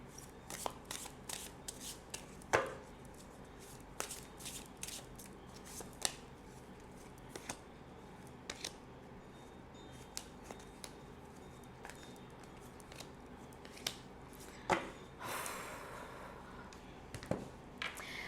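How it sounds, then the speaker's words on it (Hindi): Tarot cards being shuffled by hand, with a quiet continuous riffle and slide of card stock punctuated by sharper snaps and taps every second or two, close up and soft, no talking. "मैं शफल कर सकती हूँ कार्ड्स को"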